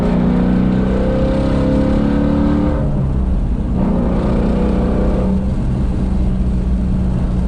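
Ford Mustang GT350 with its 5.2 liter Voodoo V8 revving, a loud steady engine roar with rising and falling pitch, close by and continuous with no talk.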